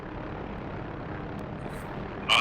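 An AH-6J helicopter in a video game flies with a steady, dense whirring engine and rotor drone throughout, and a sharper burst of noise cuts in at the very end.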